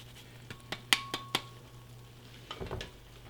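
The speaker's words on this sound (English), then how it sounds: "Give that a stir. Give that a nice stir." A spoon clinks and scrapes against a pot while red wine wild mushroom risotto is stirred with grated cheese, several light taps in a row, then a soft, thicker churning, close and fairly quiet.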